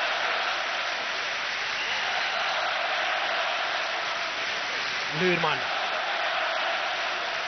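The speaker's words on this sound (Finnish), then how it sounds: "Yleisö alkaa riehaantua." Hockey arena crowd at the 2004 World Cup final between Canada and Finland, a steady broad roar of cheering throughout, with a brief commentator's voice over it near the end.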